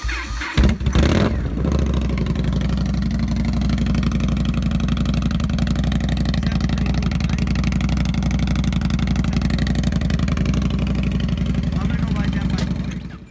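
Indian Scout bobber motorcycle engine cranking and catching in a brief burst, then settling into a steady, loud, close idle that holds evenly until a final drop.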